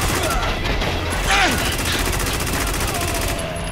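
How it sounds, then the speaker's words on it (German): Bursts of gunfire in the shooter game Spec Ops The Line crackle amid combat chaos, automatic weapon fire and explosions layered continuously with game soundtrack. "Wir sind schwer unter Beschuss!"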